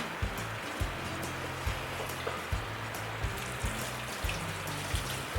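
Chicken stock pours into a pot of soup made with potato peels, a soft, continuous splashing trickle with faint regular pulses, quiet and close with no voices.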